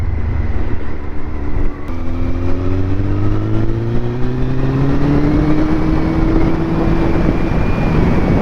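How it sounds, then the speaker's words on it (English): A Suzuki GSX1400 motorcycle engine hums steadily and smoothly, its pitch rising gently as it cruises along with strong wind rush. "that lovely sound of the 1400's engine"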